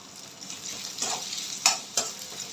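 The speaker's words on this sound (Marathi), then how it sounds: "कांदा आता दोन ते तीन मिनिट आपण फ्राय करून घेऊया" Onion frying in oil over a high flame for street-style veg chowmein, a soft sizzle punctuated by a few sharp spatula scrapes and clinks against the pan, no talking.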